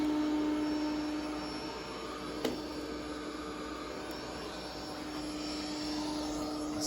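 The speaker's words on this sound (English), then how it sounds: "You can hear it's on max suction. Still pretty quiet for being on max." Bissell SpinWave robot vacuum and mop running on max suction, a quiet, steady whirring hum with a faint tonal whine, continuous and fairly soft, with one small click.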